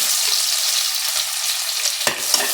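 Onions, garlic, ginger and green chillies fry in ghee for vegetable fried rice, giving a steady, close hissing sizzle with a brief utensil clatter near the end.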